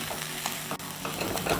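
Sabudana khichdi with coriander stirred in a pan, a short run of scraping spatula strokes over a soft steady sizzle, close and moderately loud.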